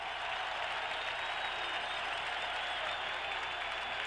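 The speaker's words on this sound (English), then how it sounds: "The Packer crowd on its feet applauding the Green Bay defense." A Green Bay Packers home crowd at a 1978 game against the Chicago Bears stands applauding the defense, a dense, steady wash of clapping from a big stadium audience that holds at an even level throughout.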